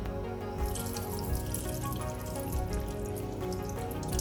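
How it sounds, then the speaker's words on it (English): Fermented semolina batter's thin top layer being poured off from a container during papad preparation, giving a steady, close wet trickle and splashing throughout with no talk. "We will throw this upper layer of semolina batter little bit."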